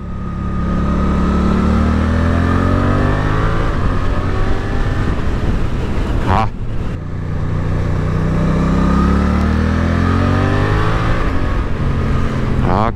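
A Suzuki GSX-8S motorcycle pulls hard out of a curve in second gear, its engine note climbing steadily before a brief dip at a quick gear change, then rising again, loud and close throughout.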